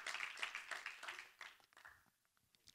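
A congregation claps and applauds during a Pentecostal church service, with dense clapping that fades over a few seconds into scattered claps, fairly faint and distant.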